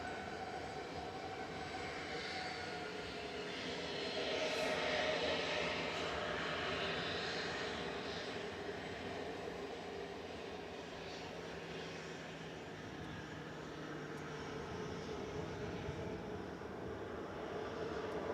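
An airliner climbing out after departure from Manchester Airport, a steady distant jet roar that swells slightly then holds as it continues on the normal departure route, heard alone.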